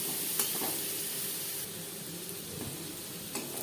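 Paneer frying in a pan with turmeric and salt, a soft steady hiss of oil with a few faint stirring scrapes, fairly quiet throughout.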